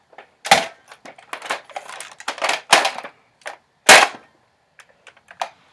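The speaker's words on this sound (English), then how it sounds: "Is that all you have in here? Well, that is a Nerf gun" A Nerf toy gun firing, a quick series of sharp plastic clicks and pops in irregular bursts, close and fairly loud with short silent gaps between.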